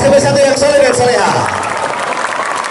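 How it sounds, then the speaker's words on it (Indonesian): A crowd applauds schoolchildren of SMP Negeri 1 Purwakarta at a Muharram school celebration, with loud, dense clapping that tapers slightly, mixed with voices and a brief tonal cry near the start. "Tepuk tangan untuk anak-anak SMP 1 yang soleh dan soleha."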